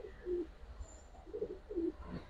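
Pigeons of the Giribaz and Afsan Bagha breeds coo at a breeding farm, a few low, throaty, rolling coos in short separate bursts over quiet room noise.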